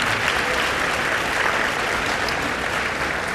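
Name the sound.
audience applause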